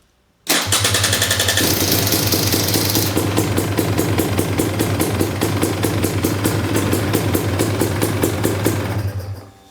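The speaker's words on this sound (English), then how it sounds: "the last step is to start the bike up and check for any leaks" A KTM or Husqvarna motorcycle engine cranks and fires after a brief silence, then settles into a steady, loud, close idle with a rapid even thumping pulse that continues to the end before cutting off.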